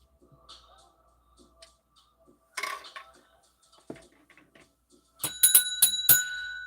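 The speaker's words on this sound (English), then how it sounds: "Oh, the bell is ringing." Small metal bell ringing near the end as several bright, rapid chiming strikes that ring on, after a quiet stretch of scattered soft clinks and taps.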